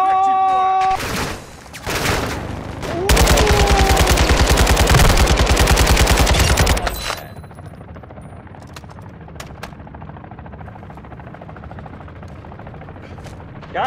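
Rapid mid caliber automatic gunfire rattles loudly in a long sustained burst in Call of Duty: Modern Warfare II, followed by scattered quieter shots and clicks at a distance.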